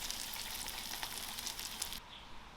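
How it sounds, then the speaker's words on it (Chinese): Hot oil poured with dried Sichuan peppercorns and dried chilies over a bowl of maoxuewang gives a loud, steady hiss and crackle for about two seconds, then fades to a softer simmer. "烧点热油，然后加上干花椒、干海椒，倒在我们的毛血旺上"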